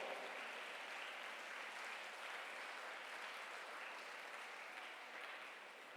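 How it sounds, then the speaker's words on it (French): A church congregation at a Sunday Mass applauds the priests, a steady, even wash of many hands clapping at a distance, sustained without pause and fading slightly toward the end. "Merci à tous les prêtres, nous les applaudissons."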